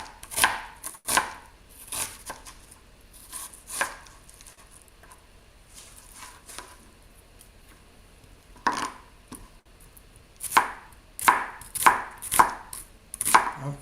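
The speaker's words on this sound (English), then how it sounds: "now I can cut these onions and don't have to worry about them stinging my eyes" A knife chops onions on a board, coming in bursts of quick sharp thuds with pauses between them, close and clear, with no talking.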